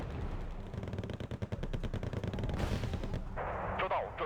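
Basilisk artillery and other guns firing in the Wargame: Bear vs Dragon video game, a dense rapid series of booming shots and bursts with a louder explosion near the end.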